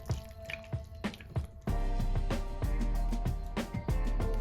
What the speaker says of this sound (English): I'm gonna continue to stir this